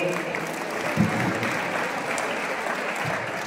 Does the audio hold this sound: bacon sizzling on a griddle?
no